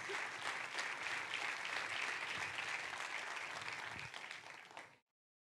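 Sustained applause fills a church during a Spanish-language sermon, the congregation clapping densely and evenly before the sound cuts off abruptly near the end.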